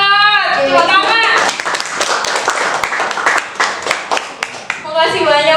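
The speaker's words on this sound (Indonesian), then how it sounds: "Tepuk tangan." Audience clapping at an inspirational health podcast session with a district health ambassador, a dense burst of applause in the middle, with talk before and after it.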